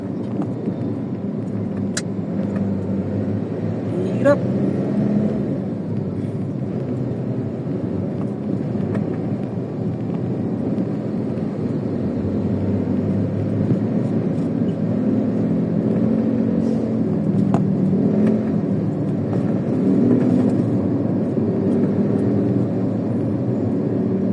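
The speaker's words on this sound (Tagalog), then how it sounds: "Napaka-traffic guys kanina pa." Steady road traffic drone heard from inside a car in heavy congestion near an expressway exit in the Philippines, a constant muffled engine and road hum with no talk.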